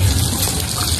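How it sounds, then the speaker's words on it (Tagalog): Water poured into a pot of sautéed mung beans while cooking, a loud, close gushing splash running steadily through the whole moment. "Lagyan ng tubig."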